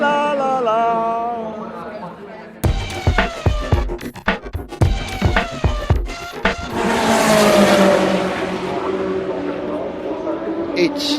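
A race car passes during a 24-hour endurance race in the evening, its engine rising and falling through sharp gear-change bursts before a sustained roar fades, heard fairly near with crowd and track ambience under a voice talking.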